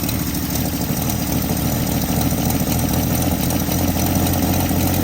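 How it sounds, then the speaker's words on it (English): A 1961 Valiant parts car hums steadily as its fuel pump and engine run, a loud continuous droning noise without pauses. "Oh, there goes the fuel pump."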